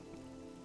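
Steady rain falling on a surface, a continuous close patter with a low hum beneath it and no voices.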